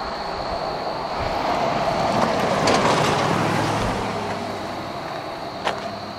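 Steady rumbling roar of freight train cars, scrap railroad tie gondolas, rolling past close by, a continuous broadband wash with a faint squeal and a brief clank near the end.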